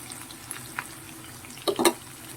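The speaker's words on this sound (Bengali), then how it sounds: "আর এদিকে আলু ভাজাটা হচ্ছে" Soft, steady sizzle of potatoes frying in a pan over low heat, with a few sharp utensil clinks near the end.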